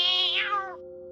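A black cat gives a single drawn-out meow that rises and then falls away, heard clearly and up close with no other sound.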